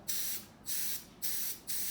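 Four short bursts of pressurized gas hissing out of an Aeropak air duster can with a 360° nozzle, each about a third of a second, separated by brief pauses.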